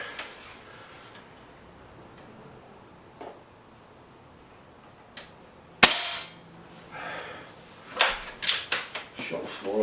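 An air rifle, a Webley VMX Quantum or a BSA Lightning, fires one sharp, loud crack near the middle, followed by clicks and handling noises as the next pellet is loaded.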